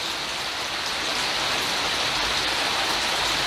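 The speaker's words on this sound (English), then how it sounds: "the rain and the wind is starting to pick up" Steady, dense rain pours outdoors with gusting wind, a loud continuous hiss from start to finish with no talk.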